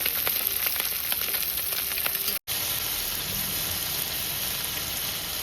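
Pabda fish fries in hot oil in a home kitchen, giving a steady close sizzle with scattered light crackles. A brief dropout cuts it off midway before the sizzle resumes.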